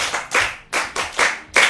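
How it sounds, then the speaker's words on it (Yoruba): A crowd at a celebratory gathering claps hands in repeated swelling bursts, each rising quickly and fading, close and loud, with no speech between them. "ẹ tún pàtẹ́wọ́ fún bàbá wa Ọlátúndé Ọládòkun."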